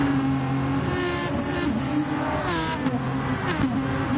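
An Aston Martin race car engine at Monza in a racing game holds a sustained, loud, steady whine. Its pitch shifts slightly as the car revs and changes gear, with no talk over it.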